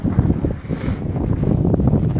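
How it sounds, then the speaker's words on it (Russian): Gusty wind buffeting the microphone, a low rumbling roar that swells and pulses throughout, loud and close, with no talking. "вышел ветер"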